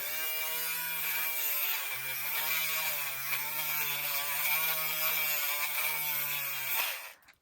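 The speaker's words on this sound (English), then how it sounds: "It's actually a bead reamer, but I bought the extra attachment, which is a cup burr" A bead reamer fitted with a cup burr rounds the end of an earring wire, giving a steady, close, high-pitched motor whine that runs unbroken for about seven seconds before cutting off abruptly.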